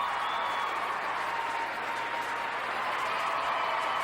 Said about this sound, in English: They have been clapping all day long